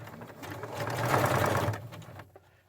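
Sewing machine running steadily in one continuous burst, stitching a zigzag seam around a fabric headband, close and fairly loud, then stopping.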